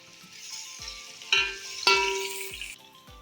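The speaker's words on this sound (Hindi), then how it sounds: "इसको अच्छी तरह भूनेंगे अदरक लहसुन को" Ginger and garlic fry in hot oil over light-browned onions, a steady close sizzle broken by a few sharp scrapes and knocks of a spoon against the pan.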